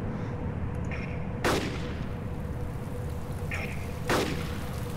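Two gunshots in Arma 2's DayZ mod ring out a few seconds apart, each a sharp broadband crack with a short tail over a steady noisy outdoor ambience.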